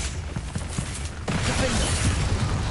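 A Confringo blasting spell bursts in Hogwarts Legacy, a sudden loud crackling blast midway that rolls into a dense, rumbling roar and fiery crackle to the end.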